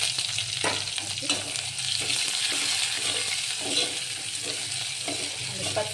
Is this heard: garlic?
yes